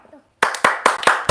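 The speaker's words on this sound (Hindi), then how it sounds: "तालियां तालियां" A small group claps loudly and close by during a cups-balanced-on-a-pencil challenge, with several sharp, uneven bursts of hand claps after a quiet start.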